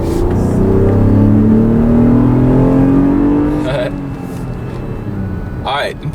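A 2016 Lexus RX350 F Sport's 3.5-liter V6 engine rising steadily in pitch as it accelerates, heard loud from inside the cabin, then settling into a lower steady hum as the revs ease off.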